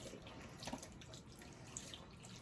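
Running water pours over hair extensions as they are rinsed upside down under a tap, a steady close splashing hiss with a few brief drips and bumps, no talking.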